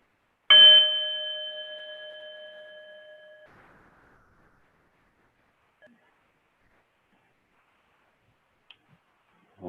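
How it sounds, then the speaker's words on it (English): A single bell strike rings out clear and pure, its tone slowly fading into silence, followed by a few faint clicks. "hear the last sound of the bell and then come back into the space."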